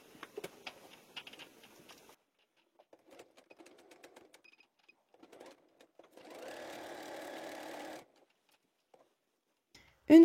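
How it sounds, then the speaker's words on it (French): A sewing machine stitches a right-sides-together seam 1 cm from the edge on a jumpsuit's button placket, a steady whirring run of about two seconds after a few soft fabric-handling taps and rustles. "on vient piquer endroit contre endroit. Donc on va venir réaliser une couture à 1 cm du bord."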